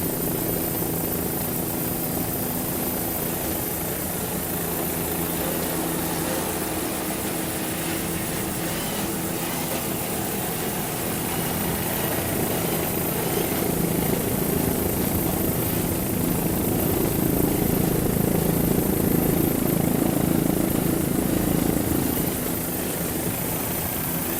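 Helicopter flying over the 1999 APBA Offshore Powerboat World Championships race off Key West: a loud, constant rotor and engine drone with a rough whirring texture that holds steady throughout, with no voices.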